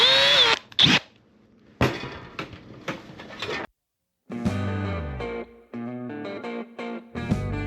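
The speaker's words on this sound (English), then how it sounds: "So the first step I'm going to do is drill pilot holes" A power drill whirs in several short bursts, drilling pilot holes in aircraft engine baffling, starting and stopping with pauses between, close and fairly loud.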